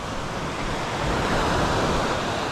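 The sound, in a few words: stormy sea waves and wind on the shore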